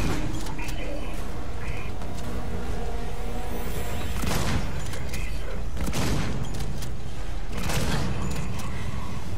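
Several loud, booming shotgun blasts ring out at irregular intervals over a dense, constant layer of game noise and clatter, in the video game Alien: Isolation.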